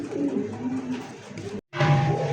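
A pigeon at a market sale of local and foreign breeds gives low, throaty coos. The sound is close and fairly loud, with a brief silent break before the cooing resumes.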